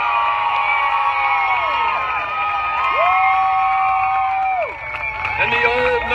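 A political rally crowd in Baton Rouge, Louisiana cheers loudly and continuously, with whoops and sustained shouts layered over a dense roar, and a voice rising above it near the end.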